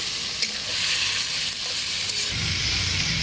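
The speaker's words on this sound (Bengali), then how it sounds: "সবজিগুলোকে দিয়ে ভালো করে নাড়িয়ে নিচ্ছি" Washed mixed vegetables for pav bhaji frying and being stirred in a pan, a continuous close sizzle with scraping stir strokes, getting louder and heavier in the last second.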